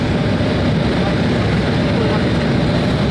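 A steady, loud, broadband roar of aircraft engines fills the cabin of a passenger plane in flight, continuous and unchanging with no distinct voices standing out.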